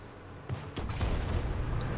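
An enemy tank fires a shot in a tank combat video game: a single loud, close blast lands about three-quarters of a second in, its rumble carrying on under ongoing battle noise.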